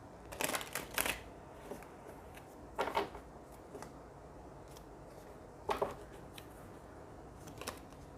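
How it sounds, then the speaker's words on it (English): Soft, close riffles and taps of tarot cards being shuffled in a few brief bursts, quiet in between. "Let me shuffle one time and then we'll do it."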